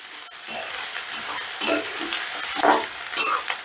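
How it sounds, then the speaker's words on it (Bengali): Onions being stirred slowly in a pan over low heat to soften for chicken kala bhuna, with a steady soft sizzle and intermittent scraping strokes of a spoon against the pan, close and alone. "পেঁয়াজটা কিন্তু ভাজলে চলবে না, লো আজে জাস্ট একটু নরম করে নিতে হবে, নেড়ে চেড়ে একটু নরম করে নিতে হবে"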